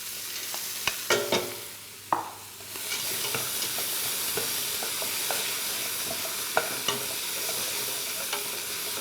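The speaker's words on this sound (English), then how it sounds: "And now I want to add my peas." Peas go into a pan of broccoli and spinach over turned-down heat for a soup. A few sharp clatters mark the peas landing and the stirring, then a steady sizzling hiss follows with scattered scrapes of the spoon.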